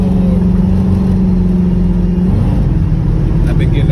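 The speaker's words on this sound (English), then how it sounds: "now I'm driving the car." A 1987 Monte Carlo engine running while driving, a loud steady low drone with a pitch shift midway, continuous throughout with no talk.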